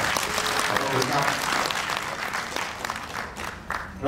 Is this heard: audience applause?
yes